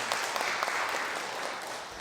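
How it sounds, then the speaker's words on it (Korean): A church congregation applauds during a Sunday morning worship service, a dense, steady wash of clapping that holds for a couple of seconds with no voices over it. "우리 하나님께 영광의 박수를 드립니다"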